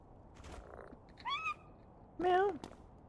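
A cat gives two short meows close up, the second louder and longer, over a faint low rumble that may be purring, with no talking.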